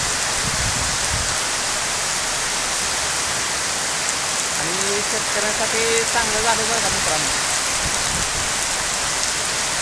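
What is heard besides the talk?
heavy rain falling in Velapur village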